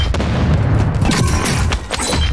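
A loud, dense stun grenade explosion in Call of Duty: Warzone 2.0, with rumbling and crackling blasts, filling the whole moment with heavy low-end impact.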